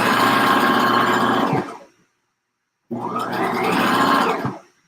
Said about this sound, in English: Then I'm just sewing the